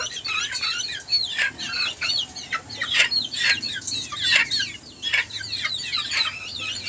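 Chickens in a small backyard coop cluck and chatter steadily, overlapping calls coming close and fairly loud with no talking.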